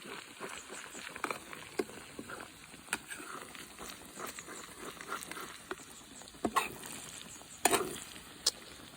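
Omelette with minced pork frying in pork lard, giving a continuous soft crackling sizzle with scattered sharper pops and occasional scrapes, steady and close throughout with no talking.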